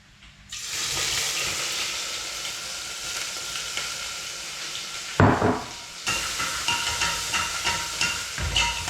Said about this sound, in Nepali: प्याज धेरै पनि होइन, एकैछिन फ्राई गर्ने।